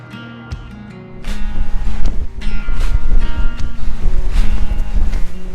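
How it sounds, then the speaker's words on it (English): Strong wind buffets the microphone on a windy day by the bay in Labrador, a loud, constant roar with gusts surging after a quieter opening second. "It's a real windy day out here today"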